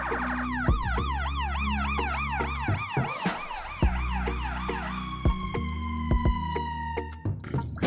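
A toy ambulance siren wails in rapid up-and-down sweeps over a steady electronic hum, then shifts to a flatter tone with crackly clatter toward the end.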